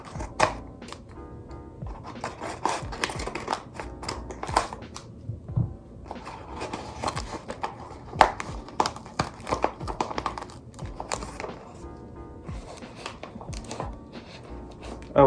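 A plant shipping package from Ecuador holding a Philodendron pastazanum is cut open and unpacked, with repeated close crinkling, rustling and tearing of packing material in irregular bursts throughout.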